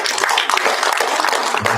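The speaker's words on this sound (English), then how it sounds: "Can we give a round of applause" Audience applause at a master class session, dense steady clapping filling the room for a couple of seconds with no break.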